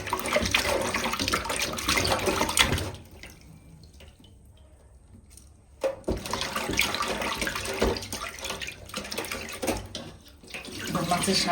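Bhola fish being washed under a running tap, a loud close splashing gush of water that breaks off for a few seconds of quieter dripping and handling, then pours again.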